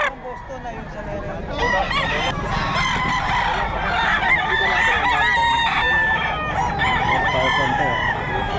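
Roosters and gamecocks crow and cluck loudly and continuously at close range, with several birds overlapping amid faint background voices.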